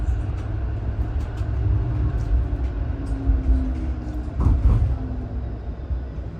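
The interior of a 511 Bathurst streetcar in Toronto on its run from Exhibition to Bathurst Station: a continuous low rumble of the car rolling on the rails, with faint squealing tones and a brief clunk partway through.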